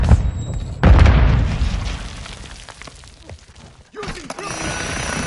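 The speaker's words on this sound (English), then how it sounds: "Stun grenade out!" A stun grenade goes off in Modern Warfare 2 (beta, PS5): a loud close boom bursts out near the one-second mark and rings off into a fading rumble, followed by renewed game noise.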